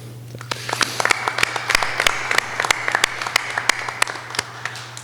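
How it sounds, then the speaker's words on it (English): Audience at a software conference's annual general meeting giving a round of applause, sharp individual claps ringing out over a steady clapping wash, moderately close with a low hum beneath. "a big thanks and a round of applause to the directors who've just rolled off the board"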